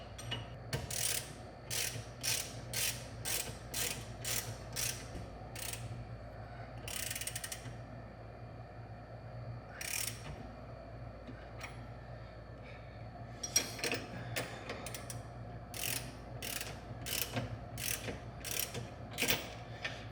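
A hand ratchet tightening bolts on a lowered car's suspension mount, repeated bursts of quick clicking strokes in steady rhythm with brief pauses, close and clear.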